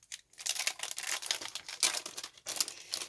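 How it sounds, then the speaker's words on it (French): A gift package being unwrapped by hand, close and crisp paper crinkling and rustling in quick continuous bursts, with sharper tearing snaps now and then and no talk over it. "Donc là, je vais le déballer"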